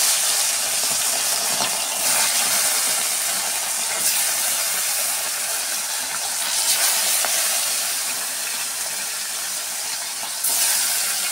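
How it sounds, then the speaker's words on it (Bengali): Fish fries in hot white oil in a wok, a loud continuous hissing sizzle that swells and eases in waves, close up with no talking. "মাছগুলো ছেড়ে দিলাম।"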